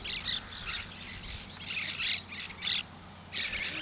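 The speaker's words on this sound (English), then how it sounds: "Oh, parrots coming in." Flock of parrots flying in over rainforest ranchland, sounding a series of harsh, shrill squawks in short bursts roughly every half second, moderately near over a hiss of insects.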